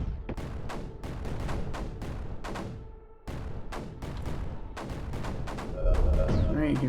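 Mortars firing in the video game Creeper World 4: a rapid series of sharp thumping launches and impacts, fairly loud and repeated with brief pauses, no talking.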